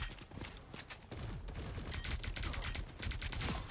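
Sustained gunfire from the hero shooter game Marvel Rivals, a continuous fusillade of close shots rattling on without pause.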